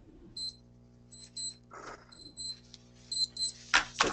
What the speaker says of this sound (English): So, yeah, we're hearing an alarm. I think that's a watch alarm maybe going off.